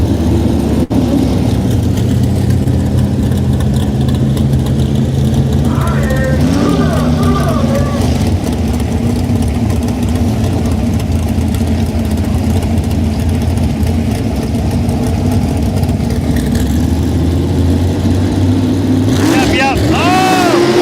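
A blue Ford Bronco on cut tires revs at a mud bog race, a loud, uneven engine roar that idles, climbs and surges, with an announcer talking over it and crowd noise around.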